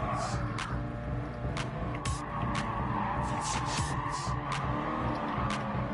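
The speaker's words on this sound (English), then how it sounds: "These little janky cars right here, man, suck trying to drive." A race car in Gran Turismo Sport drives with a steady engine drone, and repeated bursts of tire skidding and squealing come through throughout.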